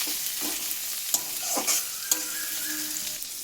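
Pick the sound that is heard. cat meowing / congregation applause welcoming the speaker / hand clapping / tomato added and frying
tomato added and frying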